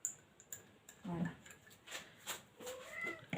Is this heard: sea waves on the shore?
no